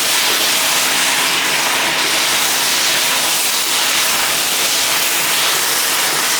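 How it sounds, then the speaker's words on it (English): Chicken stir-fries in sauce in a wok over a high flame, giving a loud, unbroken sizzling hiss that holds steady throughout with no voices. "Keep on stir frying or else the base of the chicken will burn."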